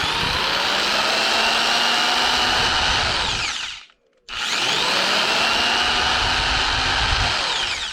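A 3.5 amp electric jigsaw powered through an inverter runs loud and close with a steady high whine. It stops briefly at the midpoint and then starts up again.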